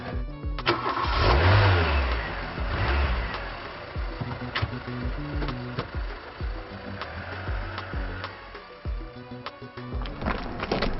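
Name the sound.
car engine revving as car drives off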